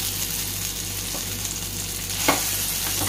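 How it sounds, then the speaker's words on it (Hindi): Chicken shami kababs frying crisply in a little oil over medium heat, a continuous close sizzle and crackle with a low steady hum beneath and one brief scrape near the end. "ये हल्के ऑयल में भी अच्छी तरह से फ्राई हो जाता है गैस धीमा रखेंगे मीडियम गैस पे इसे अच्छी तरह से क्रिस्पी फ्राई कर लेंगे"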